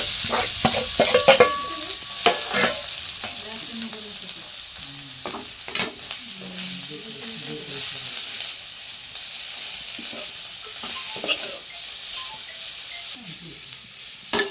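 Vegetables with garlic fry and get stirred in a pan, a steady sizzle punctuated by repeated clinks and scrapes of a spoon against the pan, close and fairly loud.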